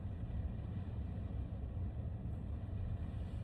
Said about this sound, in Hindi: फिर मेरी गाड़ी की आवाज़ भी आ रही है